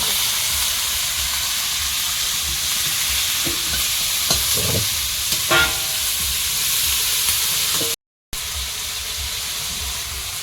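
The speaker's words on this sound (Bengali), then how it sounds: "একটু পাঁচ ফোড়ন তেলে পেঁয়াজ কুচি আর একটু পেঁয়াজের মধ্যে দেবো কয়েকটা কাঁচা লঙ্কার মধ্যে" Chopped onion and green chilies fry in five-spice-tempered oil, giving a steady, loud, close hiss of sizzling with a few scraping stirs and clinks partway through and a brief dropout near the end.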